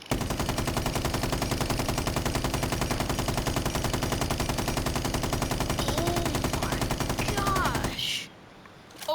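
A sustained stream of fast automatic rifle fire in Rainbow Six Siege rattles on at a steady, even rhythm for about eight seconds, loud and close. A voice briefly speaks underneath near the end, just before the firing stops.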